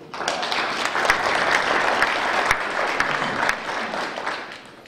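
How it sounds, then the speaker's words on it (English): A roomful of people at a public planning workshop gives a brief round of applause, steady dense clapping for about four seconds before tapering off. "If we could give them a quick round of applause."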